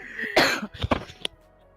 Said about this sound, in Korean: 또 기침이 나와서 잠시 말 끊김이 있었는데